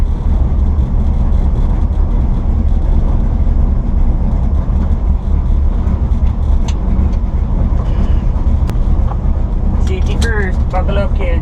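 A 1968 Ford F100 pickup truck on a test drive, with a loud, continuous low engine and road rumble inside the cab, while people talk over it.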